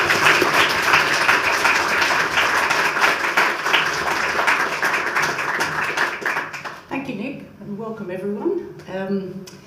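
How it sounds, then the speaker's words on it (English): Audience at a book launch seminar breaks into sustained clapping that fills the room for several seconds, then fades as a speaker begins talking. "Big round of applause."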